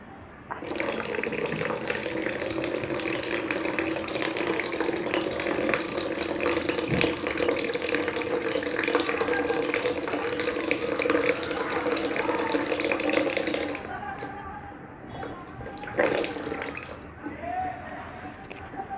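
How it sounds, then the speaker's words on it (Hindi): Water running and splashing steadily during a jal neti nasal rinse, a continuous close trickle into a basin that stops abruptly, followed by a few brief drips and splashes. "अब हमें इस तरह से एक नाक को पकड़ के इसका पानी निकाल देना है।"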